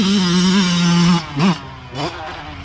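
A super mini motocross bike's engine holds a steady, loud buzzing tone, then drops off and surges in two short revs as the rider works the throttle.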